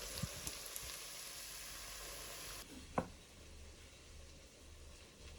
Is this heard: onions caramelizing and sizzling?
yes